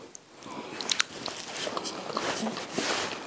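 Someone close by bites and chews a cabbage-and-onion stuffed momo, with soft wet squishes and a few sharp crunchy bites early on, fairly quiet, with no talking.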